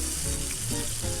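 Chicken steak searing crisp in a pan, a dense close sizzle that holds steady through the whole short stretch.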